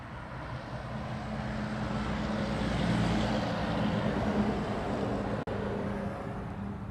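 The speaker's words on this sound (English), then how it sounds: "Oh, we got another C-17." Boeing C-17 military transport aircraft at Honolulu airport, a broad steady jet roar swelling to a peak mid-clip and holding, heard from a distance without talk.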